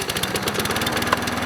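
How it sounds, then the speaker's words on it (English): A petrol lawn mower engine runs steadily and close by, a loud, rough, rapidly pulsing drone with no pauses, heard alone without talk. "including lawnmowers"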